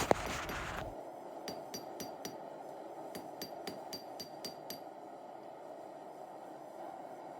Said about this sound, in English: I am drawing the billet back out so it can be used as a core piece for a sanmai blade